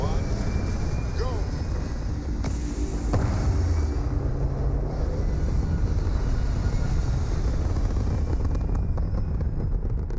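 Continuous heavy engine roar of a spaceship lifting off in Starfield, a loud, dense low rumble sustained throughout with a brief surge early on, while a person talks over it.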